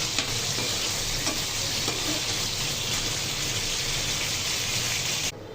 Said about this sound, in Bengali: এই তো আমার সিমের বিচি ভাজা হয়ে গেছে, দেখুন